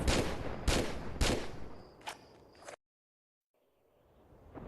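Rapid bursts of video-game gunfire in Tomb Raider 4 Remastered, several loud sharp shots in quick succession, then the sound cuts to near silence before a faint tail returns.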